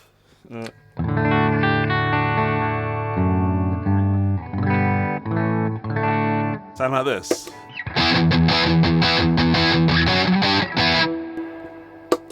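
An electric guitar through a 1987 ProCo Rat 2 distortion pedal into a clean amp plays sustained chords and riffs with a gritty, distorted tone, with a brief spoken phrase between passages.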